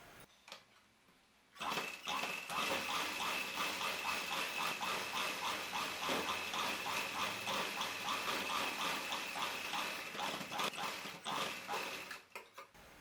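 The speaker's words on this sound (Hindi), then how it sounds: "यहाँ नीचे से हम एक सिलाई और लगाएंगे।" A sewing machine stitching a seam on a dhoti salwar, starting after a quiet moment and running in a fast, even chatter for about ten seconds before slowing and stopping.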